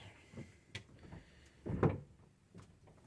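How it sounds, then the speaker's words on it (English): A few close mechanical knocks and rattles build to a solid thud as a GMC coach door swings shut and latches, followed by a softer clunk. "now the door is latched."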